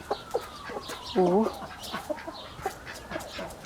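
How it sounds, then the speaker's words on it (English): A rooster makes a short, throaty crowing call mid-clip amid soft clucks and scattered farmyard noises, close by, while a person talks briefly. "that's a rooster singing."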